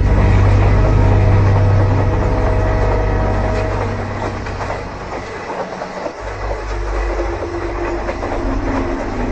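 A train runs on a railway line at night, a loud, steady rumble and rattle of cars with clickety-clack over the rails, easing somewhat partway through and then carrying on close by.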